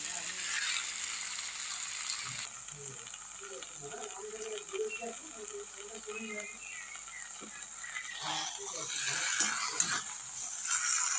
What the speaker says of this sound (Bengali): এটাকে এখন অনেকক্ষণ ধরে ভালো করে কষতে হবে